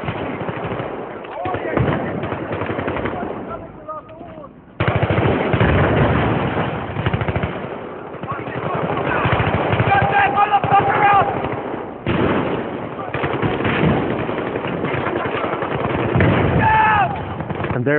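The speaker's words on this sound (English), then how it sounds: "This is where I switch to single shot. We have multiple firing modes in Battlefield 3." Gunfire in the video game Battlefield 3, with frequent single shots and bursts interspersed with booming impacts, dense and loud, with someone commentating throughout.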